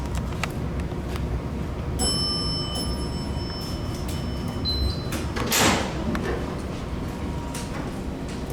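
A vintage Otis Lexan traction elevator at 24 Greenway Plaza in Houston sounds its bell, a sustained ringing chime with a brief bright ding, over low cab hum and the rumble of door movement.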